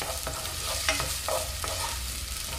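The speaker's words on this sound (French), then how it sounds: "l'oignon que je vais faire revenir quelques minutes" Onion sautéing in a pan over medium-low heat for an asparagus risotto, a soft continuous sizzle broken by a few scraping stirs of a utensil, with no voices.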